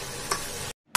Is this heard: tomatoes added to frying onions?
yes